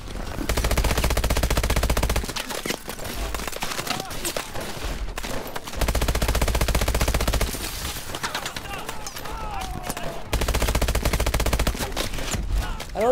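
Rapid automatic gunfire from the video game Call of Duty: Advanced Warfare rattles loudly in long bursts separated by short pauses, with quieter battlefield noise in between.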